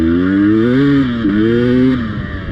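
A Beta 250 RR off-road motorcycle engine revs loud and close, its pitch climbing and falling through a couple of throttle blips before dropping back, with no voices.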